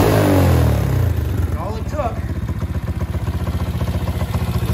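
Motorcycle engine with an adjusted Nibbi carburetor, idling loud and close with a rapid, even thumping pulse after an initial rev that settles down.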